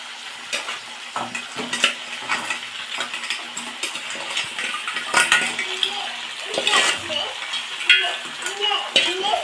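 Crab pieces fry in hot oil while a spoon stirs them, giving a continuous sizzle broken by frequent scraping and clinking against the pan, close and fairly loud throughout.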